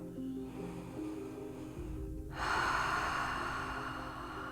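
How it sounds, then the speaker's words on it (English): A slow nasal inhale, soft and quiet, followed by a longer, breathier exhale through an open mouth during a grounding yoga practice, both close and alone in a calm setting. "We'll inhale through our nose and open our mouth, exhale."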